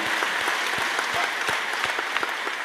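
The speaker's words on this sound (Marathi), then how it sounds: "नाना तुमच्या नावानं टाळ्या वाजवा" Dense, steady clapping from a crowd at a devotional kirtan held for Kamada Ekadashi, with sharp individual claps standing out from a continuous rattling wash for the whole stretch, with no voices.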